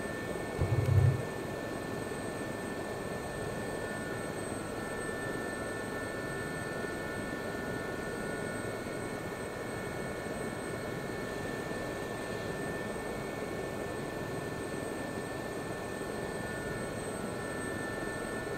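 Jet engine roar from a fast jet taking off along a taxiway in the DCS combat flight simulator, a steady broadband rumble and whine holding evenly throughout with no talk.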